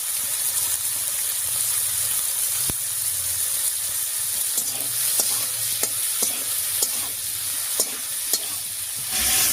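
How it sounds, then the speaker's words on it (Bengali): Prawns frying in a pan with tempered spices, turmeric and salt, a strong continuous sizzle and hiss with occasional sharp clicks of a utensil, no voices. "ফোড়নের সঙ্গে লবণ হলুদ দিয়ে চিংড়ি মাছটা একটু ভেজে নিয়েছি"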